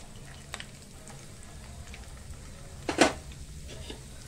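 Garlic and mustard seeds fry in hot oil with a steady, close sizzle, a few light pops and a louder stirring scrape near the end, with no voices.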